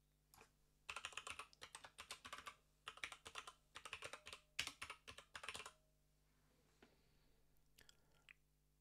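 Rapid bursts of keystrokes on a computer keyboard as entries are overtyped, clattering in quick runs for several seconds before trailing into a few softer clicks.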